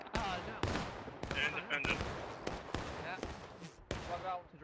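Musket fire in the video game War of Rights during a historical rules event, with a string of sharp, separate reports at uneven intervals, about eight over a few seconds, each loud and echoing, with faint calls in the background.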